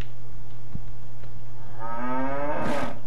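A cow moos in the video game Cryostasis: one long, loud, rising bellow near the end, over a low steady background hum, with no speech.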